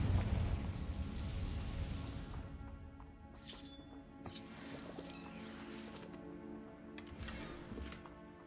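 A Confringo blasting curse in Hogwarts Legacy, a deep rumbling boom that decays over a few seconds, followed by several sharp crackling bursts over steady game music.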